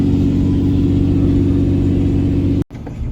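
A truck being pintle towed behind another truck rolls along with a steady, loud engine drone and road rumble from the cab, which cuts off abruptly near the end before the noise returns more quietly.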